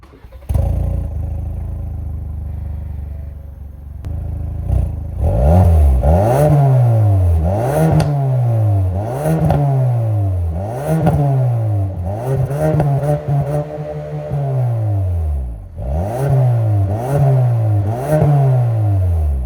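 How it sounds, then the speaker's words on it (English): A Ford Focus ST Mk5 four-cylinder on its standard exhaust, revved repeatedly in loud, rising-and-falling blips after a quiet idle, each pull climbing and dropping back in a steady rhythm, heard up close with no talking. "Considering that is a standard exhaust on a 4-cylinder car, I think that sounds pretty good"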